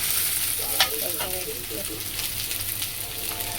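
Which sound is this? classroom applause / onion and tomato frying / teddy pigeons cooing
onion and tomato frying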